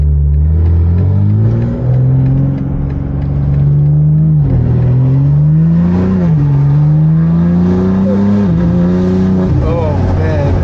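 A BMW G82 M4 with an S58 engine and catless downpipes revs loudly and raspily up close, the pitch climbing and dipping through gear changes, with voices talking over the roar.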